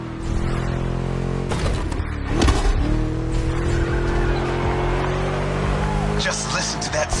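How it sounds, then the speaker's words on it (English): V8 engine of a car in The Crew Motorfest racing game, a steady deep drone held throughout with brief tire-squeal-like bursts and shifts in pitch, loud and close. "Just listen to that V8 like a chonky, down-tuned guitar riff."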